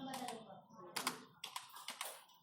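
Fingers type text on a computer keyboard, several quick key clicks that come faint and close, then a short cluster of presses near the end.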